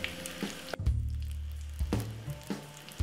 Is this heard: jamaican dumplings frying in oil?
yes